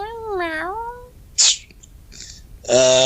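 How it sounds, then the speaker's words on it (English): A cat gives one wavering, drawn-out meow, followed by a few sharp short noises and a bright harmonic cry at the end. "Meow."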